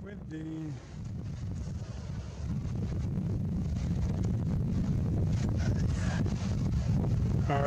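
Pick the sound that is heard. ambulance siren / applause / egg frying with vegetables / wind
wind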